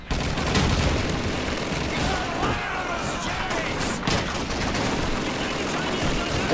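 Gunfire in the PC game Call of Duty 2, a loud, dense and nearly continuous barrage of shots and bursts that fills the whole stretch without pause.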